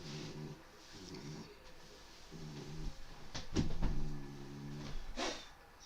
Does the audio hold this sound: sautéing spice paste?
no